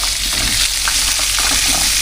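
Tilapia fries in hot oil in a pan, a loud, close, continuous sizzle and crackle with occasional stirring spatters, no speech.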